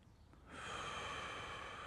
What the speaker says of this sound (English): Breathe deep in through the nose, out through the mouth.